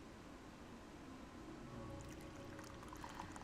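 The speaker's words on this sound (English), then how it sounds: "reached out for the sake and poured some for Ito" Quiet, continuous trickle of sake being poured, likely into a cup, in a video game scene, a soft steady liquid stream with faint splashing toward the end.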